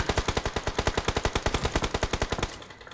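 Rapid automatic gunfire from PUBG Mobile, a fast, evenly spaced burst of loud, close shots lasting over two seconds before cutting off into a brief fading tail.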